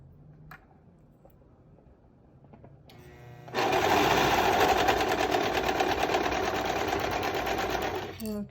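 A few quiet handling taps come first, then a sewing machine stitches the bands of a two-piece dance set. It starts abruptly and runs in a loud, steady, rapid whir for about five seconds before stopping.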